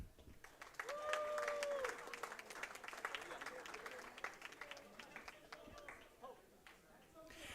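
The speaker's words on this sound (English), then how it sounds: "Please give a round of applause to Leon." Applause from an esports tournament audience greets a runner-up at an award ceremony, steady clapping holding across the whole stretch with a voice speaking over it.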